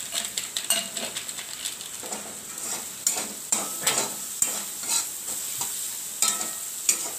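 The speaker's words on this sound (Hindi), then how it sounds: "अब इसको अच्छी तरह से भून देंगे।" Capsicum with Maggi masala is stir-fried in a pan, a soft sizzle under repeated scraping and stirring strokes from a spatula, close and fairly loud.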